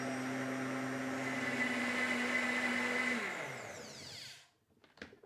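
An OmniBlend blender whirs at high speed as it self-cleans with detergent and hot water, a loud steady motor whine that winds down and stops, followed by a couple of faint knocks.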